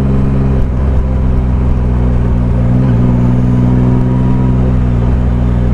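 Triumph Rocket III motorcycle engine heard while riding, a steady loud low-pitched rumble with a constant harmonic drone and wind noise throughout, no speech.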